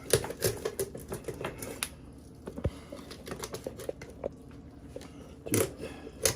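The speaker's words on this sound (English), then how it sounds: "once you get your knife in there, cut along that backbone" A knife cutting along a turkey's backbone, with close, irregular crunching and snapping clicks coming in uneven bursts with short quiet gaps.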